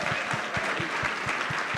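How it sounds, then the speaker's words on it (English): An audience at a Bitcoin conference in Naples claps steadily in a dense, even wash of applause, heard at moderate distance without a break. "Let's give him a round of applause."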